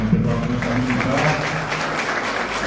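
An audience applauds a guest at a tribute ceremony of a Guarani language and culture society, a dense, even wash of clapping held at a steady level throughout.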